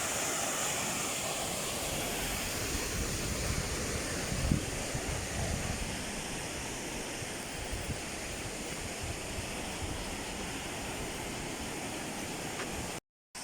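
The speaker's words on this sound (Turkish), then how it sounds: "Gürlek Şelalesi'ne geldik." Gürleyik waterfall, a continuous broad rushing of falling water at steady volume, heard close and alone with no voices, ending in a brief cut.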